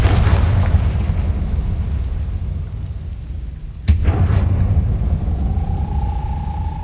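A Confringo explosive spell in the Hogwarts Legacy video game, a loud sustained rumbling blast with a sharp crack partway through followed by more booming roar and a rising tonal whine.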